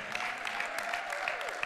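Congregation applauding inside a church for volunteers who set up and broke down a portable church, a dense steady wash of clapping throughout with faint voices beneath.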